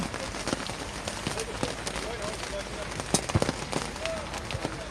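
Heavy rain pours steadily on an outdoor amateur football match, a dense hiss with occasional sharp pops, while a commentator talks over it.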